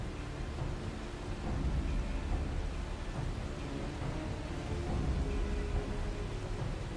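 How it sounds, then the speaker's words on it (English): Steady rain with low rumbling thunder in the Final Fantasy XIV video game, a dense, fairly quiet wash of noise that holds level throughout without talk. "I should make the rain sound effects louder."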